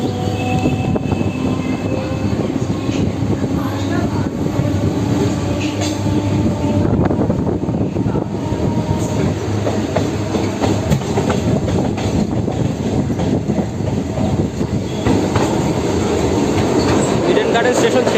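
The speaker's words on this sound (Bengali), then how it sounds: "বন্ধুরা দেখতে পাচ্ছ এখন ইডেন গার্ডেন স্টেশন ছেড়ে দিল আমাদের ট্রেন" A Kolkata Circular Rail local train pulls out of Eden Gardens station, with a steady loud rumble of wheels, rhythmic clacking and occasional squeal from inside the carriage, continuous throughout.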